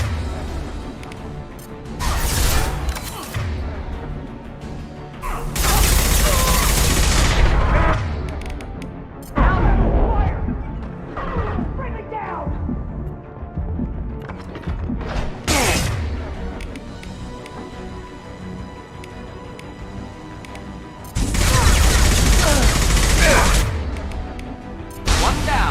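Gunfire from a video game firefight against Eclipse mercenaries at the rear stairs, with loud bursts of shots and impacts that come and go over about 25 seconds and sit under steady talk.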